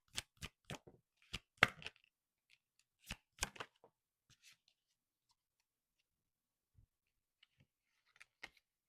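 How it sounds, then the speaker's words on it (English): Oracle cards are shuffled in quick bursts of crisp riffling and flicking, loud and close at first, then sparse soft taps and shuffles separated by quiet gaps. "I'm going to pull a couple oracle cards and see if we have any additional messages here."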